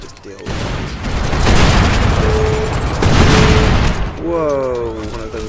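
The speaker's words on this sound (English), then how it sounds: "let's throw some grenades and just deal with it" Grenade blasts and gunfire ring out in the video game Crackdown: loud, dense booms and rattling shots pile up continuously, with a brief mechanical tone near the end.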